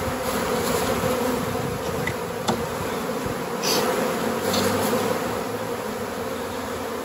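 Honey bees buzz steadily around a two-queen hive fitted with a queen excluder, a loud, close, continuous drone that never lets up and has no voices over it.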